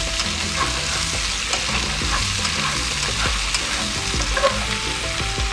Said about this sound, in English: Now we'll just mix in the potatoes and the sausage